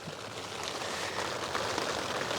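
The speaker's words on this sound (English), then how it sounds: "as you can probably hear, it's lashing with rain." Heavy rain pours down in a constant, dense hiss in the Mourne Mountains, steady throughout with no pauses.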